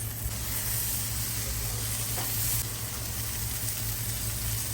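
Chicken döner basted with a herby, spiced sauce fries and browns, giving a steady, dense sizzle and hiss that holds at an even loudness throughout with no voices.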